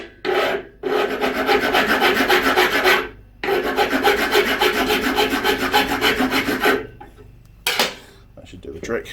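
Hand file rasping off the burr from a freshly hacksaw-cut piece of metal, long steady back-and-forth strokes in three bursts separated by brief pauses, close and loud with no talk.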